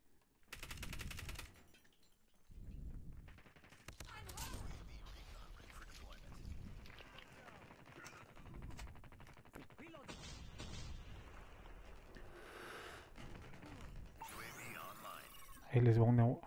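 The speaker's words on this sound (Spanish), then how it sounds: "Y está disparando desde arriba del edificio." Bursts of gunfire in a Modern Warfare video game match, rapid rattling volleys and scattered shots from a rooftop at moderate distance, with a voice talking quietly through most of it.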